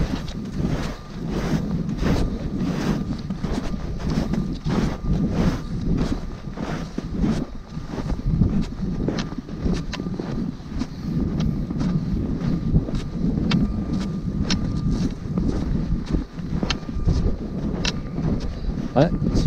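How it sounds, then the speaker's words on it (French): Wind buffets the microphone on a mountain hike in the Lutour valley, a loud, gusty rush with scattered clicks and rustles, and a voice speaks at times beneath it. "Ouais, petit vent, il est pas chaud le vent."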